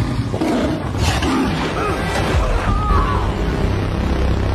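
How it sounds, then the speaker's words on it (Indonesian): A tiger roars loudly in a film scene set in a prehistoric-era sinkhole, a full, rumbling roar running continuously over a dense, dramatic background soundtrack. "Namun ternyata harimau itu masih menunggu mereka dan langsung menyerang Sam."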